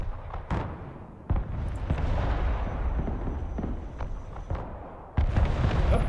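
Artillery firing in the war game Broken Arrow, heard as repeated heavy booms with a sustained rumbling roar of battle in between and sharp blasts near the start and end.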